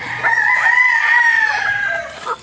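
A rooster on a farm lets out one long, loud crow close by, rising and holding steady before trailing off, with no talking over it.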